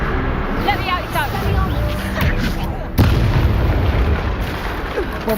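A Bombarda spell explodes in the video game Hogwarts Legacy, a loud boom that cuts in sharply near the middle of the clip. Game audio and speech run continuously around it.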